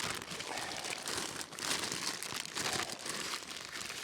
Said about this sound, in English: Nice to see they're wrapped, and they are solid pieces of kit. Just unwrap this here.